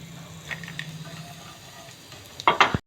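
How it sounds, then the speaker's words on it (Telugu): Seasoning ingredients for raw mango pulihora fry in a pan, with soft sizzling and light stirring scrapes, then a louder burst of sizzle and clatter near the end. "మిగిలిన ఇంగ్రీడియంట్స్ అన్నిటిని నేను వేయించేస్తాను"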